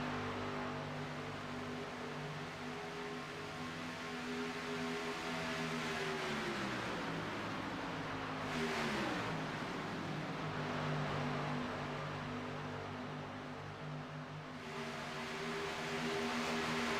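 Race cars circle Talladega in the eSPEED sim racing game, a steady engine drone that rises and dips as cars sweep past, held at a low, even level without talk.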